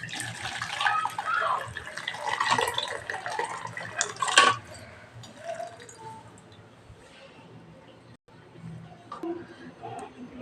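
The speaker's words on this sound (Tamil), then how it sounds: "இப்போ நான் இந்த தண்ணி எடுத்துட போகிறேன் வடிகட்டி" Cooking water poured off boiled chicken through a strainer, a gushing splash that runs for several seconds and then thins to light trickles and drips, with a voice talking faintly underneath.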